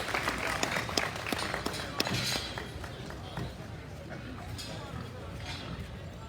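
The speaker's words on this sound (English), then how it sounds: "Let's give them all a big round of applause for a very high quality class." Scattered audience clapping at a junior pedigreed gilt show in an arena, sharp separate claps that are strongest early and thin out, heard under ongoing talk and livestock show bustle.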